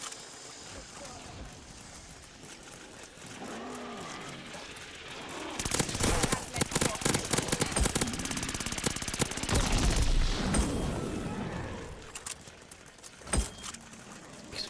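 Rapid bursts of video game gunfire and explosive blasts in a zombies mode at level 50, loud and dense for several seconds, with a voice talking in the quieter stretches before and after.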